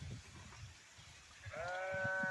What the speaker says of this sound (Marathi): मेंढ्या चरतायत.